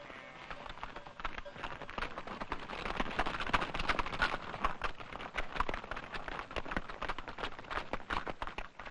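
A herd of Bakhtiari horses on migration from the desert toward the Zagros Mountains, hooves clip-clopping in a dense, continuous patter at moderate distance with steady outdoor background noise.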